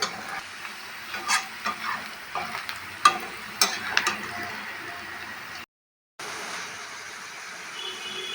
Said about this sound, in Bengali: তাই এখানে শুধু পেঁয়াজটা ভেজে নিচ্ছি